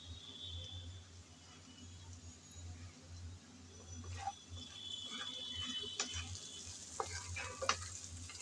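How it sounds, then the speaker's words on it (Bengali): Vegetables with potato and onion frying in oil in a pan, stirred now and then, giving a low steady sizzle with scattered scraping clicks from the spoon growing a little louder toward the end. "এখন নেড়ে চেড়ে ভালোভাবে ভেজে নিচ্ছি।"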